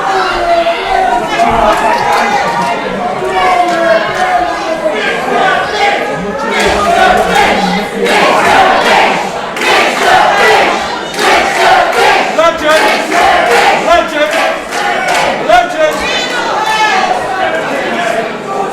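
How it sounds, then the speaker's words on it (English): Wrestling crowd at a live match between Farrenheight and Mitch The Kidd cheers and shouts steadily, loud and close, with voices chanting and calling out throughout. "As you can probably hear, cheering for Mitch, calling him a legend"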